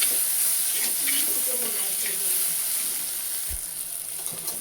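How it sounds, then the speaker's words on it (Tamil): Chili powder sautés in a pan for Tamil egg curry, a steady close sizzle and hiss with faint stirring scrapes and one low knock. "இது நல்லா பச்சை வாடை போகிற அளவுக்கு நல்லா வதங்கணும் மிளகாத்தூள்."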